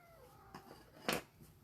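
A cat meows indoors, a couple of soft short mews followed by a louder, sharper cry, fairly close against a quiet room.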